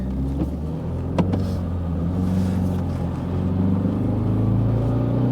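A car with an intermittent stalling fault being driven, a steady low engine rumble with road noise and faint cabin rattles, continuous and close, with no talking.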